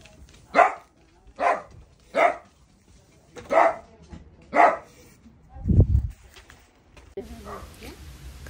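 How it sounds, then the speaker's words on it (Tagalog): A household dog barks in five loud, evenly spaced single barks close by, followed by a brief low thump and fainter background noise. "kaya yung aso namin guys maingay siya, tawal ng tawal kasi alam niya may aso sa labas"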